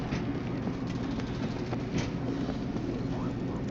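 A train in the video game World War Z Aftermath gives a steady, dense rolling rumble with faint rail clatter, continuous and fairly close throughout.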